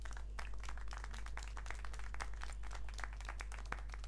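Dense crowd applause in a video game (Syberia: The World Before) with scattered sharp claps, steady and continuous throughout, over a low constant hum.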